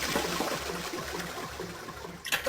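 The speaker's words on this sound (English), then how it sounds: "No, it's got to be how many times we flushed." Toilet flushing in Zero Escape: Nine Hours, Nine Persons, Nine Doors, a rushing gush of water that swirls steadily for about two seconds, then breaks off with a short clunk and splash at the end.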